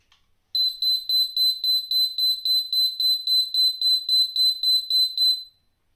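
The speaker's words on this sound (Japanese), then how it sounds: "この点検ボタンはですね、押すと音が鳴って、時間が経つとですね、自然に音は止まります。" The test button on an LP gas leak alarm sets off a loud, piercing electronic beep. It repeats in an even pulsing rhythm, about three beeps a second for five seconds, then stops, heard alone and close.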